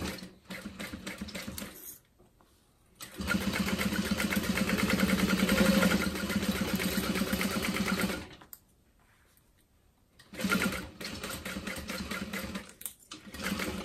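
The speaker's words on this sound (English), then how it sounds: "I'm going to sew around the bottom one more time just to reinforce" A sewing machine stitches vinyl on a zip-top tote bag in three bursts: a short run, a long steady run of several seconds, then a final stretch after a pause, each with a fast close mechanical hum.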